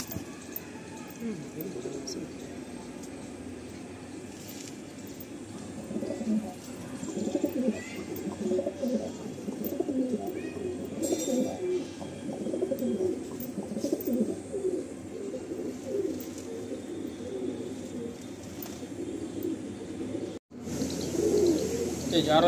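Madrasi pigeons in Kolkata coo in low, continuous murmurs, with someone talking over the birds throughout.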